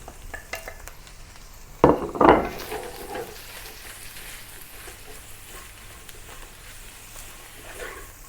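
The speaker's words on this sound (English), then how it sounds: "Now let's fry the mushrooms." Mushrooms stir-fried in a wok, heard as a brief burst of scraping and sizzling around the two-second mark, then a low, steady frying hiss with faint clinks of the utensil against the pan.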